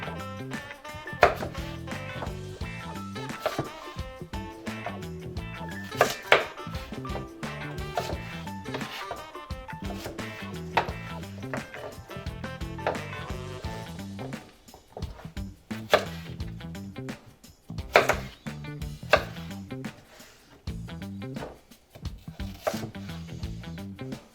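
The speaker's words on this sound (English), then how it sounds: "I'm just going to keep cutting them in half until they're just manageable, smaller pieces like that I can cut, just slice down, cut in half" A knife slices broccoli into smaller pieces on a cutting board while making cream of broccoli soup, giving repeated crisp chops and thuds at an irregular pace, close and fairly loud.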